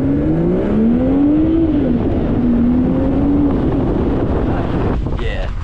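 A turbocharged car accelerates hard, heard from the passenger seat: a loud, rising engine drone climbs through gears with a shift dip, under heavy wind and road noise.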